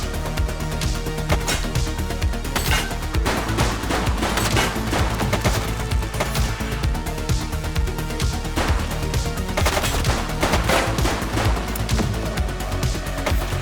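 Heavy, continuous gunfire fills a firefight in the police video game The Precinct, with overlapping shots and bursts that go on without a break, loud and dense throughout.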